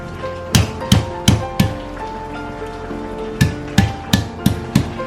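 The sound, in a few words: smashing lemongrass stalks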